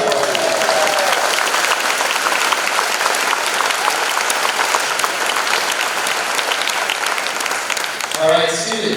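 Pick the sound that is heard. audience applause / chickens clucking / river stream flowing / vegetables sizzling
audience applause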